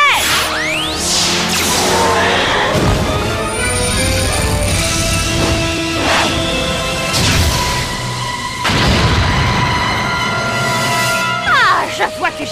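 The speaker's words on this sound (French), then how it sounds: "Voyons si ta bombe enflammée fonctionne contre la barrière de la Terre!" A cartoon dinosaur battle in which a fire bomb strikes an earth barrier, with loud whooshes, booming impacts and crashing hits layered over dramatic music and voices.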